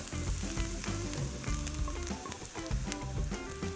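Onions sizzle steadily in a hot pan alongside meatball mixture, a continuous close frying crackle with stirring scrapes and no talk.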